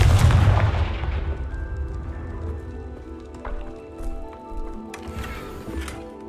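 A Confringo fire spell in Hogwarts Legacy lands as one loud, booming blast that rumbles and fades over a few seconds into a lingering game-world ambience with faint tonal music.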